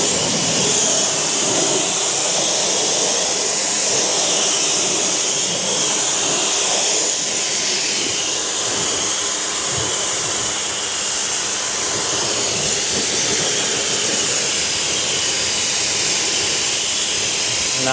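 A Ryobi 1.8 GPM electric pressure washer rinsing a car wheel, producing a loud continuous hissing spray with a motor drone, close and steady with slight shifts as the jet moves.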